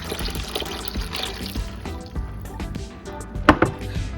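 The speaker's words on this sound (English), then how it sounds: "I just pour a cup of my juice" Juice pours steadily into a cup over a busy kitchen background, with a couple of sharper clinks near the end.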